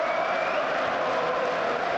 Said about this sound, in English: again to rapturous applause, jogs off the pitch